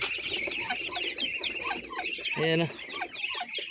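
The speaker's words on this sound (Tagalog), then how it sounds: "Ayun nga pala yung mga sisiw ng native." Hungry native chicken chicks in a backyard farm peep and cluck in a busy, continuous chorus close by, with a brief louder call in the middle and a voice speaking a few short words over them.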